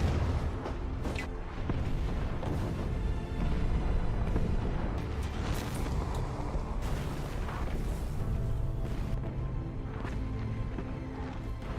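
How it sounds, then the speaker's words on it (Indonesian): German artillery fires repeatedly in a World War II film scene aimed at Soviet positions, a dense, continuous battle rumble with heavy booms and sharp bursts scattered throughout at steady loudness. "Ketika koordinat sudah tepat ke arah lokasi Uni Soviet, artileri pun langsung ditembakkan."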